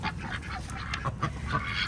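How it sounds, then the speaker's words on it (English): Ducks at their house by a pond quack and honk in a close, busy cluster of short calls over a few seconds, with no talk. "the ducks were already in their house and waiting for me and Alex"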